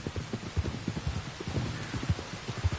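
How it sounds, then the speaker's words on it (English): Steady rain falls in Red Dead Redemption 2, a dense wash of patter with soft low thumps that may be hoofbeats on wet ground, continuous and moderately loud with no talking. "You were right about the damn rain."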